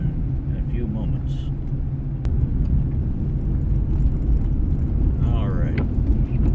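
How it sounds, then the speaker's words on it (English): A car driving along a road through a populated area, heard from inside as a constant low road rumble and engine drone that grows slightly stronger partway through. "Drove through a fairly populated section of the road there."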